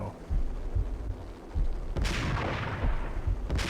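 Gunfire and explosions burst from the Max Payne video game, loud booming shots and a grenade launcher blast with crackling debris in a dense, continuous game mix.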